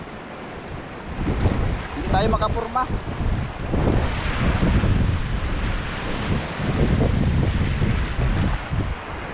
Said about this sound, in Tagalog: taas pa ng tubig tapos malaki ang alon